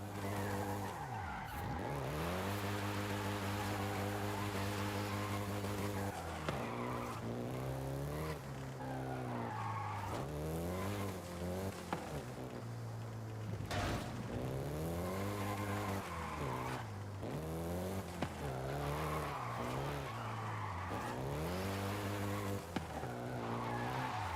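A Volkswagen Golf GTI racing in Forza Horizon 5, its engine droning loud and steady, rising and falling through repeated gear changes with bursts of tire squeal and skidding, no voices over it.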